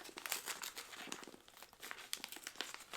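Paper wrapping around a book is torn and crinkled open, with heavy tape holding the top edge. The crackling, rustling bursts come close and fairly loud for about three seconds, with no talking over them.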